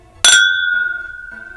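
Glasses of Heaven Hill Bottled in Bond bourbon clink once in a toast, a bright close ring that hangs and slowly fades over about a second.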